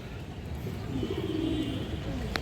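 Pigeons of a Bengali high-flying line coo softly in a loft, a low murmuring call rising through the middle of the stretch over steady background noise.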